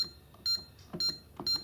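An Interlogix Concord 4 security system touchpad gives short electronic beeps in quick bursts as keys are pressed, a clear, close series of high tones.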